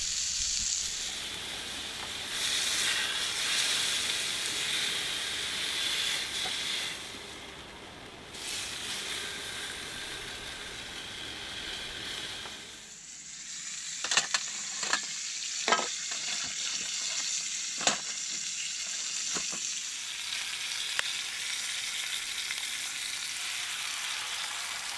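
Gammon and three eggs fry over a riverside campfire, a soft steady sizzle that carries throughout, with occasional faint clicks and knocks of utensils near the end.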